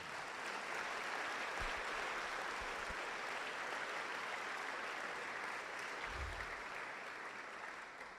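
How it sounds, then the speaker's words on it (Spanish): Broad, steady applause from a large church congregation fills the space continuously, fairly distant and uniform, tapering slightly near the end. "Dale un aplauso al Señor."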